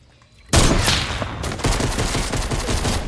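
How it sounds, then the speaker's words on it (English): Sniper rifle fire in a video game: after half a second of near silence, a loud, dense burst of gunfire erupts up close, and a second heavy volley follows and keeps rumbling to the end. "You know I got a sniper. I'm about to snipe him"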